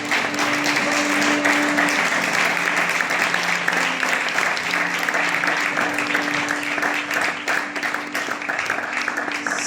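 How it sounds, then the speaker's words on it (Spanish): Congregation applauding in a church service, steady dense clapping that fills the space for nearly ten seconds, with a sustained tone underneath. "¿Por qué no aplaude al Señor?"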